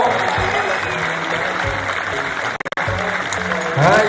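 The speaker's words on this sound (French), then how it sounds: "on lui donne une bonne main d'applaudissement, mesdames et messieurs" Audience applause at the Arnold Classic 2018 bodybuilding event, a steady wash of clapping from a large crowd that dips briefly near the middle and swells again at the end.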